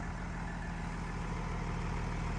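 A 1988 Isuzu Forward FRR12 truck diesel engine idles at close range with a steady low rumble and an even mechanical pulse, with no voices.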